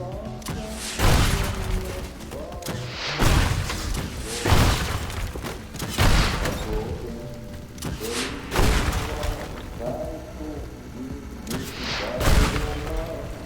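Repeated booming explosions from bombs going off in the destruction game Teardown, heavy thuds arriving every second or two at a steady loud level with rumbling debris between blasts and no talk.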